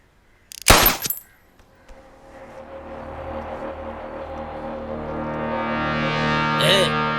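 A single sharp gunshot cracks out in a Hindi-dubbed South Indian horror comedy film, then a low drone swells and rises steadily in pitch until it ends in a brief burst.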